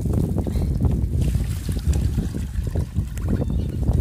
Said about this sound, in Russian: Сами знаете, когда ветер какой-то жуткий.